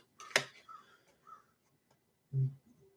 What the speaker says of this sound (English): And there's my crow. There's my crow.